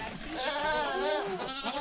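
Goat bleating up close, a single drawn-out wavering cry running the whole clip, loud and clear with no talk over it.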